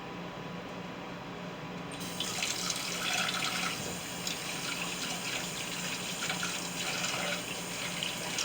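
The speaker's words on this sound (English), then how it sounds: "I'm washing my hands because I got eggs drippings on my hands." Running tap water at a kitchen sink, hands being washed clean of raw egg while breaded barramundi is prepared; a steady, close splashing stream begins after a quiet start and continues evenly to the end.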